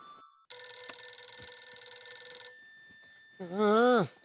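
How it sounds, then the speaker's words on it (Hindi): A home telephone rings with a bright, sustained electronic bell tone for about two seconds, then falls silent before a voice briefly speaks. "फोन की घंटी बज रही है"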